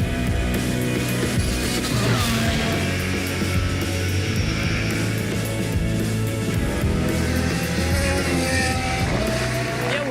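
A Formula One car driven at pre-season testing roars continuously, its engine note rising and falling with shifts, loud and close, with tyre and track noise mixed in.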